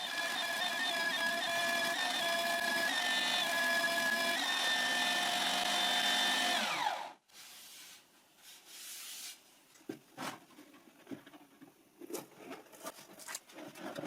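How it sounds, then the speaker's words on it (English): A belt sander grinds steadily against the edge of a heart-shaped wooden box for about seven seconds, loud and close, then cuts off abruptly, leaving faint knocks and handling clatter. "And now in the belt sander, making sure to keep the box perfectly vertical, I sand until the lid fits perfect"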